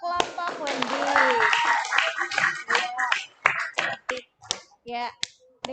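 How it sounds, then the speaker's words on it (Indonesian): A class applauds a student group during an Indonesian-language lesson. Scattered handclaps mix with talking voices at first, then thin out into sparse, separate claps that trail off. "Tepuk tangan dulu untuk kelompok Wendy."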